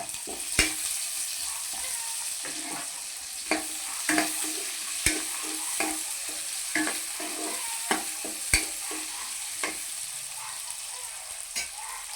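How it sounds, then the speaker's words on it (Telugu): Soft, quiet sizzle of onions frying in a pan, broken by frequent sharp taps and scrapes of a spatula stirring them. "ఉల్లిపాయ కొంచెం దోరగా ఏగనివ్వాలి"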